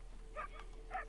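Dog barking in a PS4 video game, two faint, muffled barks a half second apart, low in level beneath steady background hum.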